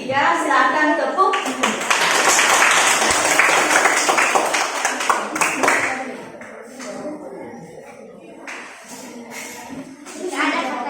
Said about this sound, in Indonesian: silakan tepuk.